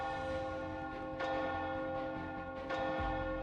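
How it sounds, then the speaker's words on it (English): Alarm bell ringing through a castle in the video game Nikke, two loud clanging strikes about a second and a half apart over a steady, sustained ringing tone. "A loud alarm bell rings throughout the castle."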